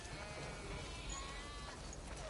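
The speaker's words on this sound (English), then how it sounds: "We definitely have way too many sheep." Sheep bleat faintly on a farm in The Last of Us Part II, a soft, distant bleat heard over a quiet ambient background with no speech.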